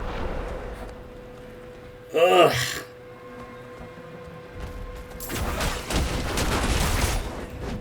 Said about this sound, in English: So much explosion, fire damage going on around me.